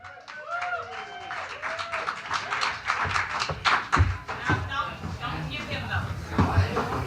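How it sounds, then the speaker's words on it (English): Comedy club audience clapping for a comedian as he walks up, scattered claps and thumps on stage mixed with talking and crowd noise. "You guys could at least kept clapping until I got up to the mic."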